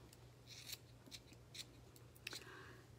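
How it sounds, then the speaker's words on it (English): Scissors snip at a yarn pom pom in a series of crisp, quiet cuts spaced unevenly about half a second apart, close up over a faint steady hum, with no talking. "I'm just continuing to cut, and I feel like it's going to come apart."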